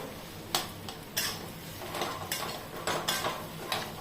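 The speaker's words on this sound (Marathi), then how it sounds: "सगळं मिक्स करून घेऊ आता हे." A spoon scrapes and knocks against a pan while spices are stirred into samosa filling, giving sharp metallic clinks at irregular intervals over a low background hum.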